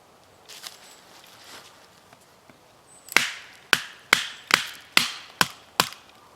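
An LT Wright GNS Saber knife is batoned through punky pine wood: a few soft knocks, then a run of seven sharp, evenly spaced woody chops, each ringing briefly, close and loud.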